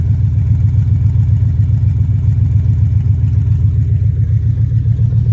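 A Chevrolet Silverado with open headers and no exhaust idles loudly just after a cold start, a steady, close, pulsing low rumble that holds without a break.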